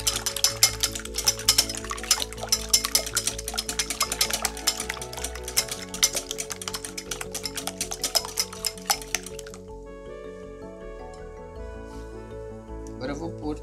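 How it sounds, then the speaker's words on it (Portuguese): Metal utensil clinking and tapping in a bowl while eggs are lightly beaten for brownie batter, a busy run of quick clinks and stirring scrapes that eases into calmer, sparser tapping near the end. "dá uma leve batidinha nos ovos"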